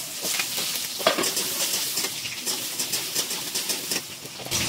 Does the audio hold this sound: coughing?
no